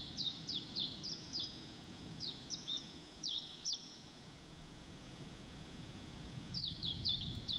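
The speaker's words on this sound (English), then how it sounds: "How about an ambient forest sounds with birdsong?" AI-generated soft forest ambience with a low background hiss and bursts of high chirping birdsong, several quick tweets at a time, moderately distant.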